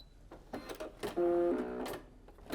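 A Brother M370/M380D sewing machine stitches a short burst, its motor whirring steadily for about a second amid faint clicks of fabric handling nearby, with no talking.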